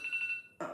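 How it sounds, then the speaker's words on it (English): A phone alarm rings as a steady, bright electronic tone held for about half a second at moderate volume, then cuts off abruptly into a brief burst of broadband noise. "that's my alarm."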